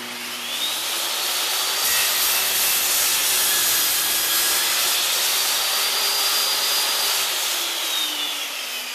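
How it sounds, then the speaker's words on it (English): Saw cutting through a wooden board for a lap joint, a loud continuous whining cut that holds steady for several seconds with no talking. "Rotate the board, clamp it down, and make the cut on the other end."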